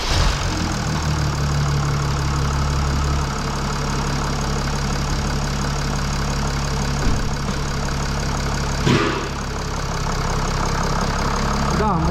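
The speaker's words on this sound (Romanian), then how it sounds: "Motorul a pornit relativ ușor." A Mercedes ML 350 Bluetec diesel engine starts and runs at a steady, rumbling idle throughout, with a couple of brief clunks partway through.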